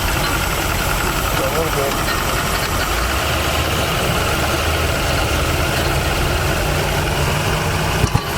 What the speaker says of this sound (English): When you get half throttle, it spits. It's shifting, but it's spitting back to the carburetor.